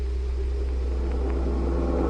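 A car engine in a radio drama gives a steady low rumble, constant and fairly loud throughout the short stretch, with no voices.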